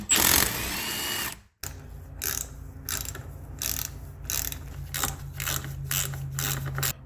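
Ratchet wrench backing out transmission case bolts on a Ford Focus Powershift DPS6 gearbox: a loud opening burst, a brief pause, then a long run of quick, close, repeated ratchet clicks.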